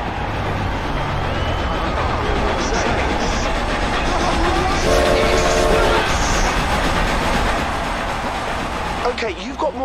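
A train rolls past during a race in the video game Forza Horizon 2, a steady loud rumble with rail clatter and a brief horn-like tone in the middle, under engine noise throughout.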